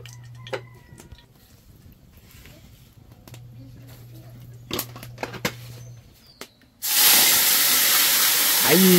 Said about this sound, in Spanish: Comenzó el sonido bonito del caldero.